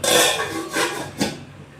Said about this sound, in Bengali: চিকেনটা এবারে আমি একটু ঢাকা চাপা দেব